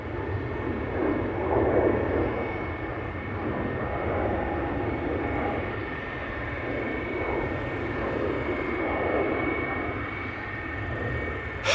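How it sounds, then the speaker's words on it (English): Airliners including a Delta A330, an Embraer E195-E2 and an A320 sit at Amsterdam Schiphol Airport, giving off a steady distant jet engine drone that rises and falls gently with no speech. "So we still have a Delta A330 and it looks like both the E2 Embraer 195 and the A320 are returning to the gate."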